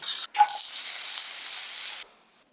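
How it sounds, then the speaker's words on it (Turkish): Finely chopped onion hitting hot vegetable oil in a pan, a sudden bright sizzle that holds as a steady hissing fry for about two seconds, then cuts off abruptly. "Soğanı ince doğrayın ve tavada kızartın."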